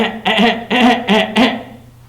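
A voice imitates a car engine cranking and failing to catch, four sputtering bursts in a row before trailing off.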